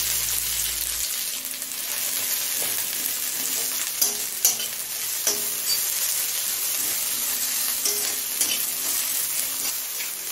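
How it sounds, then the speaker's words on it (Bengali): A large, thinly sliced onion sizzles over high flame in a pan where nigella seeds were just fried, with steady loud frying hiss broken by scraping stir strokes throughout, no voices. "এবার পেঁয়াজটা হালকা লাল হয়ে আসা পর্যন্ত ভেজে নেব।"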